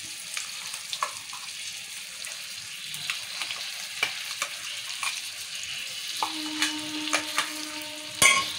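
A masala paste of sesame, coconut, peanuts and tamarind is stirred in oil for stuffed brinjal, a soft steady sizzle broken by scattered spoon scrapes and taps, ending in a sharp clink.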